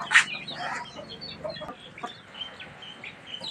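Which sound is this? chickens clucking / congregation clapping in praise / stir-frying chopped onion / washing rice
chickens clucking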